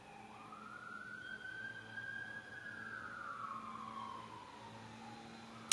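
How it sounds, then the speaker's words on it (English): A siren from an emergency vehicle passing outside sweeps up and then down in pitch over several seconds. It stays moderately loud against steady background noise, and there is no talk. "I apologize for the sirens and the leaf blower."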